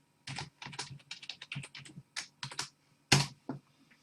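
Root login and password typed on a computer keyboard during a VMware ESXi 7 install: a quick run of distinct, close key clicks in an uneven rhythm, with a louder final keystroke like Enter, and no talking.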